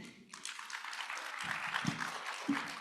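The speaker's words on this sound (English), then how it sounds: "Big round of applause" Modest audience applause at a garden talk on drought-tolerant plants, a short burst of clapping that swells briefly with a few louder claps near the end.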